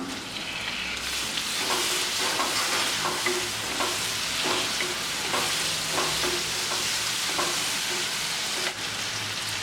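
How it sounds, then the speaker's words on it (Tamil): Tomatoes stirred and sautéing in hot oil for an aloo potato curry gravy, a steady loud sizzle with repeated scraping strokes of a spoon against the pan, close up and without any talking. "இப்போ தக்காளி வந்து ஒரு நிமிஷம் நல்லா கிண்டிட்டேன்"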